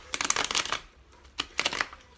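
Tarot cards riffled and shuffled by hand in two close bursts of crisp papery flutter, with a short quiet pause between them.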